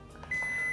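A Zojirushi Micom rice cooker and warmer gives a single short, clear electronic beep that holds steady to the end, close and fairly quiet with no talk.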